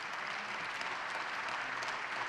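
A church congregation at a Korean Presbyterian Sunday service applauds in a steady, dense wash of many hands clapping, sustained and even throughout with no break.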